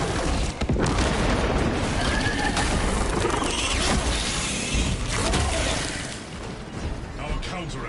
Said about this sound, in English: Melter bomb prepared